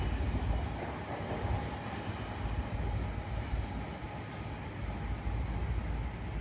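A mixed freight train rolls by with a GE locomotive pushing at the rear, a steady loud rumble and roar of rail wagons that continues throughout without a break.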